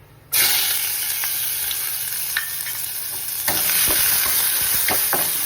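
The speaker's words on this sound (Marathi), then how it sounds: "कांदा छान परतवला." Onion dropped into hot tempering oil with peanuts for spiced vermicelli, bursting into a loud, sustained sizzle that steadies and then swells again with stirring scrapes and crackles, no voices.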